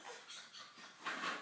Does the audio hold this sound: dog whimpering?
yes